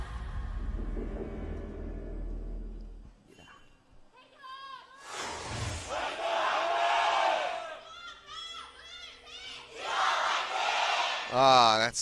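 Packed esports arena crowd at an LCK Spring 2017 League of Legends match between KT Rolster and SKT T1 roars and shrieks in loud waves of high-pitched cheering, following a stretch of commentator talk.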